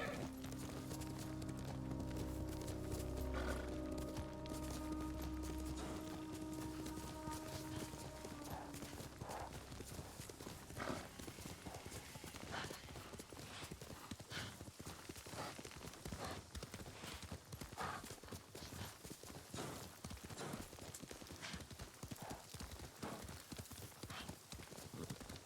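Kage the horse gallops in Ghost of Tsushima with a steady, rhythmic clip-clop of hooves that continues throughout, opening over a sustained musical tone that fades after the first few seconds.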